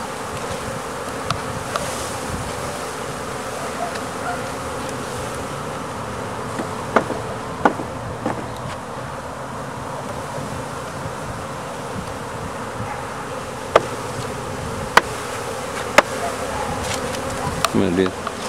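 Honey bees swarm around a hive box during a beehive setup, making a dense, continuous buzzing hum close by, dotted with a few sharp clicks and knocks.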